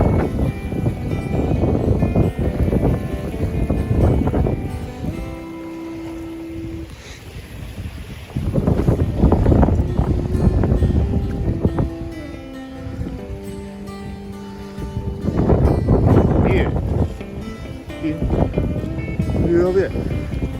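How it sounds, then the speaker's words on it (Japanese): Rough sea waves surge and crash around a boat in strong wind, the rushing water and wind buffeting rising in loud bursts, with people's voices heard throughout. "波やばくね。"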